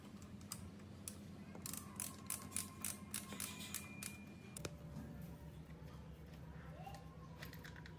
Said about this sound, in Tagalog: Dito sa strainer, gamit lang tayo ng 17 na socket. Gamit lang ako ng extension para mas mahaba.